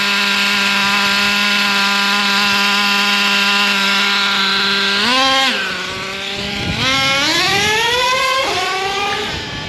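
A Traxxas T-Maxx nitro RC truck engine being tuned, screaming at a high, steady idle and then dipping and revving up repeatedly in rising, sweeping bursts, loud and close with a buzzy, whining tone and no talking.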